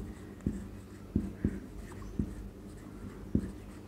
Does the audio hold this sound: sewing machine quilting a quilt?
no